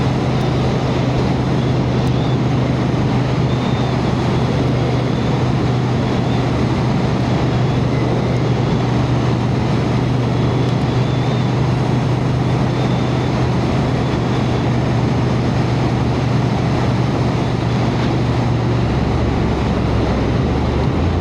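A Honda Hornet 750 motorcycle on the move, heard as a loud, continuous engine hum with heavy wind rush over the rider's microphone, steady throughout with no talk.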